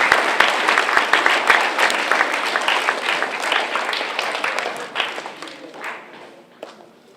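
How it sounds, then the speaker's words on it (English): An audience applauds for the organization Insight at a presentation event, opening with a dense burst of clapping that thins out and fades over several seconds, with no talking over it. "Would you kindly give them a hand of applause"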